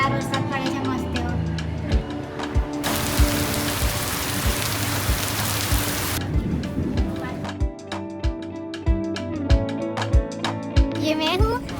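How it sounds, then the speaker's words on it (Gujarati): Rain falling outside a resort near Champaran Temple in Chhattisgarh, a soft steady patter with a burst of louder hiss midway, while a voice talks and sharp clicks and taps sound nearby. "બહાર વરસાદ પડે છે મસ્ત એવો."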